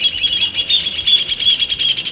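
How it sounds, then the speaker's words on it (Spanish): A flock of parrots chirps and calls at a football stadium, a steady, loud chorus of high, repeated tweets throughout with no talking. "escucharán que hay una bandada de loros cantando, sonando"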